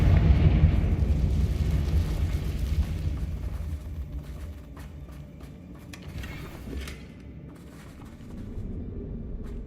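A Confringo blasting spell explodes in Hogwarts Legacy with a loud, heavy boom at the start, then a rumbling decay that settles into a lower, steady background din with a few sharp crackles.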